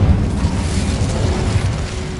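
A fiery burst from the Incendio spell in the Hogwarts Legacy video game, set in a cave, heard as a dense, loud, low rumbling whoosh that holds steadily for about two seconds.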